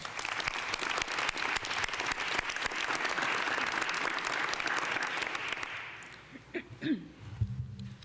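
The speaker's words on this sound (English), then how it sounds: "Let's give them all a round of applause." An audience at a mayoral address on public housing problems claps in a loud, steady round of applause that fades out near the end, leaving scattered faint sounds and a brief voice.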